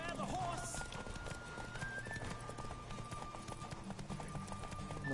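A horse gallops in The Witcher, rhythmic hoof clip-clops pounding steadily and close, with a brief neigh early on and someone talking over the hoofbeats throughout.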